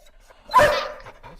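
A single loud, sharp dog bark, close and alone, rises briefly and fades, with faint quiet noise on either side.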